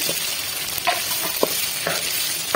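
Capsicum and chicken sautéing in a pan, a steady loud sizzle with a few scrapes and knocks as the spatula stirs, no talking.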